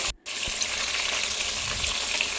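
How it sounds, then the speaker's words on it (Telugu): Brinjal pieces fry in a pan, giving a loud, continuous close sizzle after a brief gap at the start, with a soft knock and faint stirring scrapes beneath. "వంకాయ కలర్ అంతా పోయేంత వరకు మనం ఈ వంకాయని అయితే ఫ్రై చేసుకోవాలండి"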